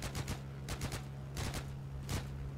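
Airplane cannons in a flying combat game fire in short, sharp bursts of two or three shots, repeating several times over a steady engine drone with no talking.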